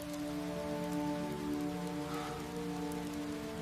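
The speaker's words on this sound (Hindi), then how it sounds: "जैसे ही बारिश रुकेगी," Steady rain falls and patters on surfaces, a dense, continuous hiss at even loudness with a low droning hum underneath, and no voices.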